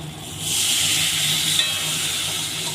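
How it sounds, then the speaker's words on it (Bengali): Raw mango pieces simmering with turmeric, chilli powder and water for a spicy rohu fish curry, giving a steady close hiss and soft sizzle with faint stirring, no voices. "ভালোভাবে কষিয়ে মশলার সাথে আমগুলো কষানো হয়ে গেছে"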